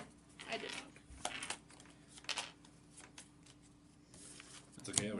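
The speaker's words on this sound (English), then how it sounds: "I was shuffling the loot cards for you" Loot cards for the board game Shadows of Brimstone: Forbidden Fortress being shuffled, a few quiet bursts of riffling and flicking with a sharper snap at the end, faint and close.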